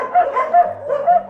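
Several dogs at a dog refuge in Madagascar give soft yips and whimpering barks in a rhythmic, close-up series, with a low hum underneath.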